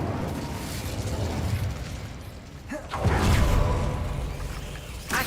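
Incendio fire spell cast in Hogwarts Legacy: a whooshing burst swells into a fiery rumble midway, lingering for a couple of seconds over ambient game sound.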